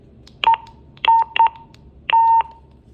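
Loud, sharp electronic beeps from a Motorola XTS1500 handheld radio at high volume: four short tonal chirps, the last held longer, with quiet gaps between.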